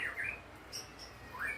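A caged oriental magpie-robin (murai) gives soft, faint chirps: a couple of brief rising calls at the start and one more near the end, with quiet background between.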